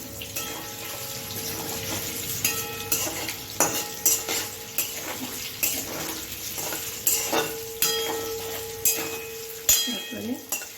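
Matar paneer pieces fry in a pan until reddish, with steady sizzling broken by repeated scraping and stirring clinks of a utensil against the pan, close and fairly loud.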